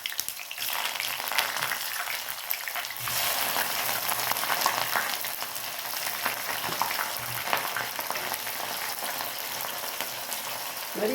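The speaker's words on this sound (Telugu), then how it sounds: "చూడండి, కొంచెం గోల్డెన్ బ్రౌన్ అయ్యే వరకు వేయించుకోవాలి." Pieces of jackfruit fry in hot oil with a loud, continuous crackling sizzle that stays steady throughout, close up, with no voices.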